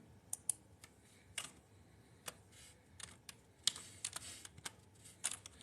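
Fingers tapping a search into a computer keyboard, a run of quick, irregular key clicks with short pauses, close and crisp against a quiet room.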